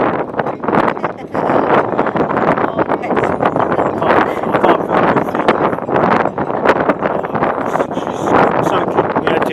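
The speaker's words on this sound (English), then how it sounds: "With a strong sound of wind." Strong wind on a seaside pier at Lyme Regis buffets the microphone with loud, constant roaring gusts that fill the whole stretch.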